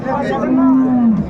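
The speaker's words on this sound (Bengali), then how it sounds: "সাইওয়াল জাতের গাভী এবং বাছুর আমরা দেখছিলাম" A Sahiwal cow gives a single long, low moo at close range at a cattle market, with murmuring voices and crowd noise in the background.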